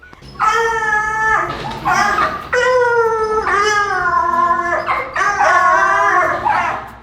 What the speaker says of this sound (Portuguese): dá um latido gostoso para mim